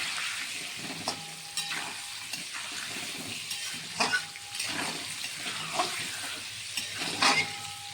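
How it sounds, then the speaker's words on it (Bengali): Potatoes frying in hot oil: a steady crackling sizzle, broken by a few soft scrapes and stirs of the pan, close up with no talking. "এবার আমি লাল লাল করে আলুগুলো ভাজিয়ে নেবো"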